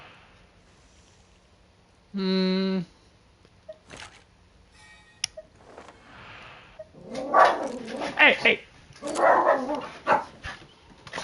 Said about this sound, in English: Crazy dog almost pushed out my screen from my window.